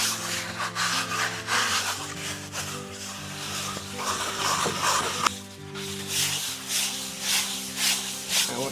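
Plasterer's float rubs over fresh render on a heritage building wall to key it flat, producing close, rhythmic scraping strokes in repeated back-and-forth passes with a brief knock partway through.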